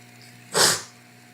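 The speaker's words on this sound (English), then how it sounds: "Gotta sneeze." A single sharp sneeze bursts out close by against a quiet hum, short and breathy, fading quickly.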